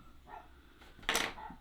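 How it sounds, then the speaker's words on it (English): A dog barks outdoors in a short burst, a single sharp bark with a brief trailing yelp, fairly near and moderately loud over quiet background. "She's just had a poo, now she's barking."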